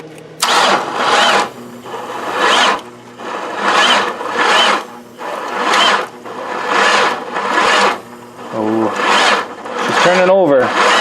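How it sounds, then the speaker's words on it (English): A car engine cranks over on its starter motor in repeated whirring bursts of about a second each, with short gaps between them, loud and close; a brief voice cuts in near the end. "Okay, so the starter's spinning."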